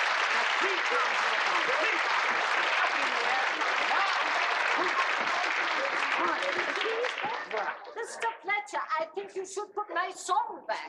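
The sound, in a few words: crowd cheering and applauding the Beefeaters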